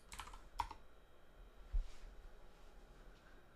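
Keys on a computer keyboard being typed while a passphrase, secret and API key are entered for a Hummingbot trading-bot setup, heard as a few faint, sparse clicks and taps with quiet gaps between them, no voices.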